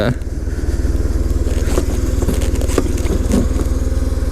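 A BMW R1100RT sport-touring motorcycle idles with a steady, loud engine throb close by, its pulsing exhaust rumble continuous throughout, with faint clatter and a few bumps over the top.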